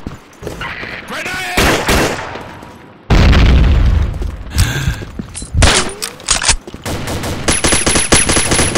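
Grenade explosion and bursts of automatic gunfire in the Combat Arms video game, a loud boom followed by rapid shots, mechanical clicks and game sound effects, with voice callouts mixed in.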